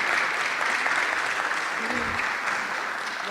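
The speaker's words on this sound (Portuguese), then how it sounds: "Uma salva de palmas para a Beatriz Medina." Audience applause welcoming a presenter from Next Solution at a company presentation event, steady dense clapping from a crowd filling the room at an even level throughout, with faint voices mixed in.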